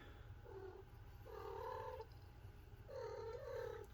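A cat purrs steadily close by in a quiet indoor room, the low rumble running through the whole stretch with a few louder, swelling phases, and nobody speaks.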